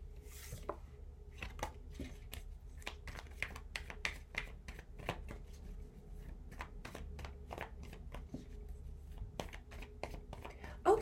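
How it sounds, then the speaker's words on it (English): Tarot cards shuffled and flipped close by, giving a quiet run of soft, irregular snaps and riffles over a low background hum. "All these cards are already flipping."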